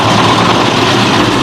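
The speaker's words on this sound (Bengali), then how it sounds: "একটি ট্রলার আসছে দেখুন" A trawler boat's heavy engine drones loudly and continuously nearby, a dense low rumble with steady chugging texture and no voices over it.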